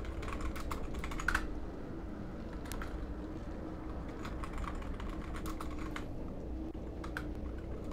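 Steady clicking on a computer keyboard while a name is typed, nearby and continuous over a low background hum, with a few sharper bursts of keystrokes.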